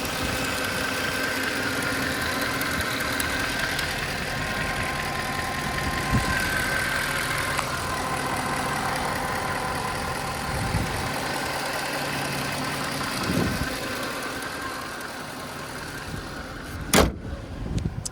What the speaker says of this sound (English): You can see that the engine idles dead smooth.